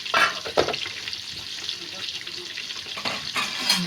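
Chopped onion frying in a pan until browned for chicken biryani, a steady sizzle with a few louder stirring bursts near the start and end, with no voices.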